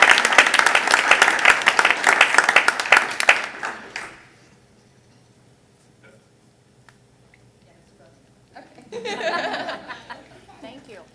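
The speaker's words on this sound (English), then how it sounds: "if everyone will join me in a round of applause for these students" Applause for high school students at a school board of education meeting, dense and steady for about four seconds before stopping. After a near-silent pause, a second, quieter burst of clapping and murmuring follows.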